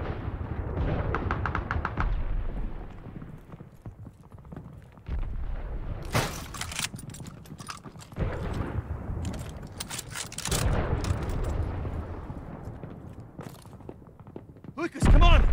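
Mounted machine gun fire in the Call of Duty Vanguard video game, bursts of automatic shots and thuds mixed with battle noise, moderately loud, with voices shouting intermittently.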